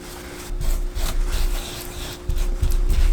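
Hands rub leftover seasoning onto trout fillets, a soft, close rasping and smearing with uneven strokes and a few light thumps.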